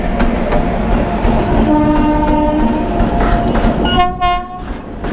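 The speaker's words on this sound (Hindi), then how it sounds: "कोल ट्रांसपोर्ट हो रहा है ट्रेन के ऊपर से" A coal freight train rolls past near the Gevra coal mining area, loud and close, with steady rumbling wheels, clickety-clack, and sustained horn tones sounding over the passing wagons.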